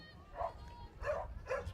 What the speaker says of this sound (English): As we have the VPCC dogs in the background